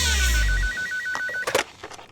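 A telephone rings with a warbling electronic trill in a Hindi-dubbed South Indian comedy film scene, loud for over a second before cutting off, followed by a few faint clicks and brief noises.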